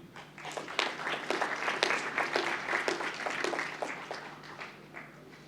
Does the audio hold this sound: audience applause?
yes